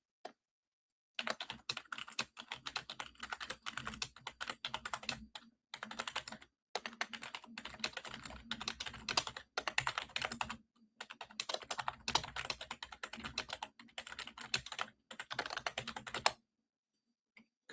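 Quick, steady bursts of typing on a computer keyboard, close and crisp, with dense clattering keystrokes broken by brief pauses and no voices.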